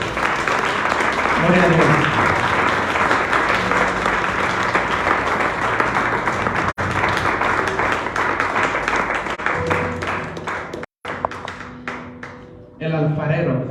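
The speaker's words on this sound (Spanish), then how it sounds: "Dale un aplauso al Señor Jesucristo." Congregation in church applauding for the Lord Jesus Christ, sustained hearty clapping filling the room for over ten seconds, with a preacher's voice and shouts of praise heard over and between it.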